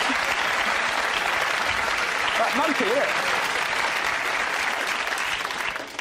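Studio audience of a British comedy panel show clapping loudly and continuously, a thick even roar of hands with a voice briefly speaking over it midway.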